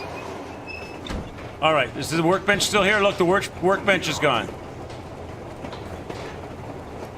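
A moving train in the video game Metro Exodus rumbles low and steady throughout, partly under someone talking in the middle.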